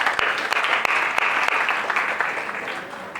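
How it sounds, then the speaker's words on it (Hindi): An audience at a group session breaks into dense, steady applause, a loud wash of many hands clapping together that slowly eases off toward the end. "चलो सबके लिए जोरदार ताली।"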